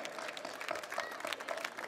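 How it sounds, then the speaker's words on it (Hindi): Crowd applause at a Shivaji Jayanti gathering in Lucknow, a short burst of many hands clapping with uneven individual claps standing out, moderately loud and without speech. "सभी लोगों से अनुरोध है कि तालियों की गड़गड़ाहट के साथ आपका हार्दिक अभिनंदन करने की कृपा करें।"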